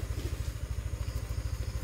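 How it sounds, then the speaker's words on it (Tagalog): A motorcycle engine idles steadily at home after dark, its low, regular pulsing chug running alone throughout with no talk. "pinaandar na yung motor ko"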